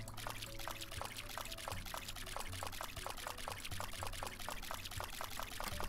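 Watering crops with a watering can in a farm roguelike game: a steady, quiet pouring trickle of water repeats in short, regular splashes over a soft musical loop, with no talk.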